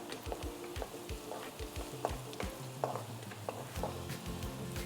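Onions fry gently in a pan for Gobi Manchurian, with a soft, steady sizzle under repeated light clinks and scrapes of a spoon stirring against the metal, close and moderately quiet.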